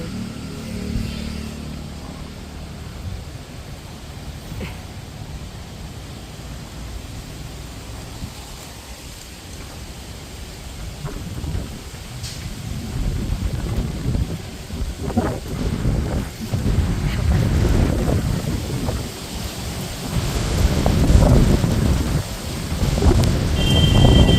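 Rain falling outdoors over open fields and trees with wind, rising from a steady hiss to heavier, louder bursts with low rumbling that suggests thunder, continuous throughout.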